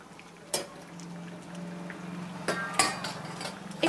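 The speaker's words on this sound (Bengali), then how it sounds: "এটাকে ঢেকে দিচ্ছি।" A lid is set onto a pot of simmering red lentil dal, producing a few sharp metallic clinks and clatters over a low, steady bubbling hum.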